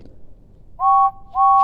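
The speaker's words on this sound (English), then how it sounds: "He gave a friendly whistle goodbye to Thomas" Steam engine whistle on an animated train, two loud clear tooted blasts close by, the first about a third of a second long and the second cut off at the end, over a quiet background.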